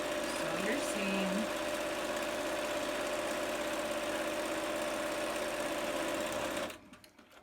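A sewing machine stitching a face mask seam runs steadily and loud with a fast, even mechanical hum and needle chatter, then stops abruptly near the end.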